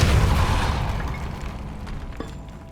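A Depulso spell blast from Hogwarts Legacy, inside a tomb, lands as one loud, close boom that fades into a low rumble over a couple of seconds.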